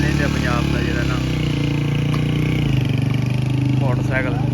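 A motorcycle engine runs with a steady, throbbing idle that stays close and prominent under ongoing talk throughout.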